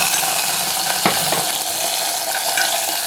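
Dried chilies, mustard seeds and curry leaves crackle and spit in hot coconut oil for a Kerala pineapple pachadi, a loud, dense, continuous sizzle up close with a few sharper pops.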